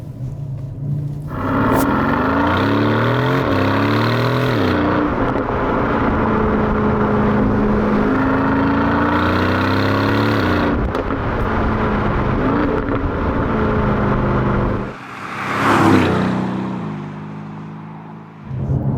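An Aston Martin DB11 accelerates hard on an open road, its engine note rising through several gear changes with loud, close rumble and wind noise, then dropping off near the end.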